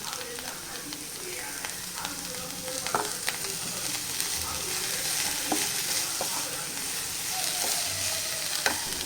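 Soya curry with curry leaves being stirred in a sizzling pan; a continuous frying hiss sits under irregular scraping knocks of the spoon, close by, with faint talk in the background.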